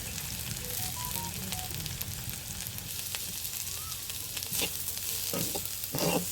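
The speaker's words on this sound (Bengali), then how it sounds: "গাজরগুলো একটু ভালো মতো ভেজে নিব" Chopped carrots fry in a pan, giving a steady, moderate sizzle with occasional scraping and stirring clatter of a utensil near the end, no voices.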